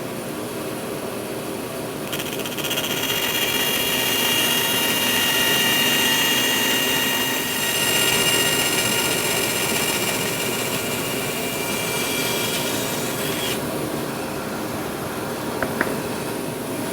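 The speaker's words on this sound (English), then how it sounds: "I've set the fence on my bandsaw and I'm ready to cut out the toe kick notches." A bandsaw cuts toe kick notches into wood for a bath vanity, a steady loud motor whine with a higher cutting tone that rises for several seconds and then drops away.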